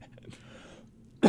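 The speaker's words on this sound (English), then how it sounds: "I'm sorry about the cough." One short, sharp cough breaks a near-silent pause at the very end, close and fairly loud against the quiet room.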